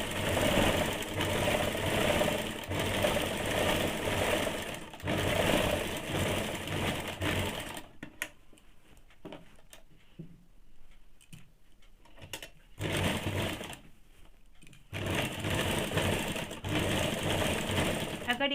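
Sewing machine running a double stitch on a high neck blouse, loud steady runs with a pause in the middle, close by and mostly alone with only faint speech.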